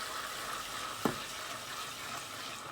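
Chopped chilies frying in oil for Chinese chili oil, a steady broadband sizzle with a couple of brief clinks or stirring knocks, close and fairly quiet throughout.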